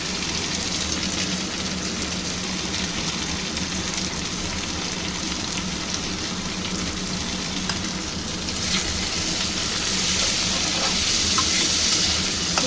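Potato, onion and freshly chopped tomato sizzle and fry steadily in a pan, a continuous close crackle like light rain, growing slightly brighter and louder toward the end with faint stirring.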